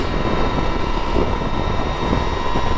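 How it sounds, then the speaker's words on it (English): Energica Ribelle RS electric motorcycle at full throttle, a steady loud broadband whine and wind roar that holds constant without breaks. "That was a full throttle twist,"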